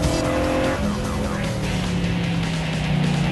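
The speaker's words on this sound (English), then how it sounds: "this car is loud and it's noisy and it's hot" Ford Mustang Boss 302 muscle car driving, a loud continuous engine drone with shifting tonal pitch as it revs and eases, heard close up from inside the car with no talk.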